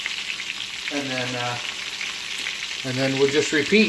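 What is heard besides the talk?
chicken francaise frying in butter in a pan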